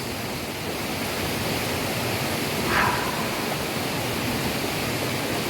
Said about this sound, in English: Listen to the sounds of the water.